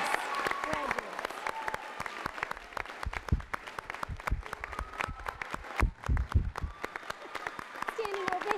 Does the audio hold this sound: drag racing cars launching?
no